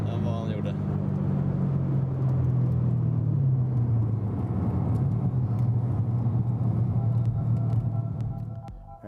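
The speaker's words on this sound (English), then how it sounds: "Here we have a Mercedes SLS AMG, the Galving version, but we also have a supercharger on this Mercedes" The supercharged engine of a Mercedes SLS AMG gives a deep, continuous rumble with a low droning tone that slowly falls in pitch, close and loud, and voices can be heard over it.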